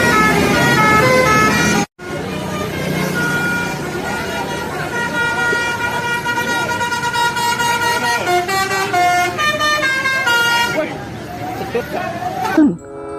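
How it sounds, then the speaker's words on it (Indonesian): A Prima Jasa bus passes by roadside, its loud multi-tone horn sounding a long, sustained melodic honk over the engine for most of the pass, with a brief break early on and background crowd chatter. "Wah, kali ini ada bus Prima Jasa,"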